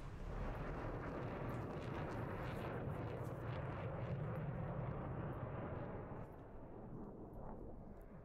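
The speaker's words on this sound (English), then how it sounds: "Nice flyby for you." A jet roars past in a DCS World dogfight, a loud, sustained broadband rush that stays strong for several seconds and then eases off slightly toward the end, with no talking.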